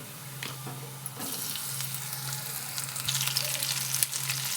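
Chopped bitter gourd drops into hot oil with onions, giving a continuous soft sizzle and crackle with a low steady hum beneath, fairly quiet and without talk.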